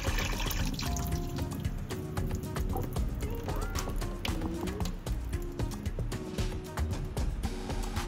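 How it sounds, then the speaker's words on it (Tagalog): Water is poured into a pot of basmati rice being cooked for chicken machboos, a steady trickling pour running for several seconds amid busy kitchen clatter and background tones. "Atong iyabu ang tubig"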